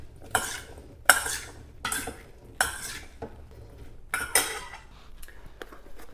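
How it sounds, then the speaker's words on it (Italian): A spoon stirs olive oil and wild fennel in a bowl, making about six distinct scraping, clinking strokes at an uneven rhythm, close and clear with no talk. "mescoliamo bene"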